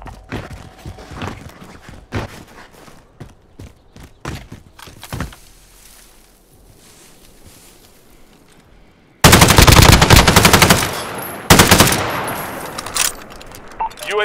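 Gunfire from the KG M40 in a video game: scattered shots and clicks over a quieter stretch, then long, loud, sustained automatic bursts that dominate the closing seconds.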